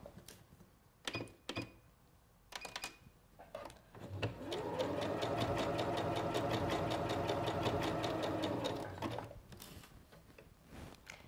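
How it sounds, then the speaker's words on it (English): A Singer Professional 9100 sewing machine hems a skirt, running in one steady, close, rapid mechanical whir for about five seconds, with scattered clicks and handling taps before and after. "and I'm going to start sewing."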